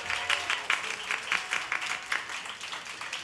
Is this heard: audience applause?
yes